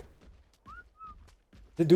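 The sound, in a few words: creature whistles in video game ARK Genesis 2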